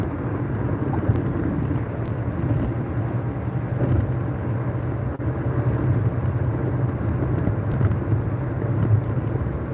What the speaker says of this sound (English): Got cars that are out here like racing.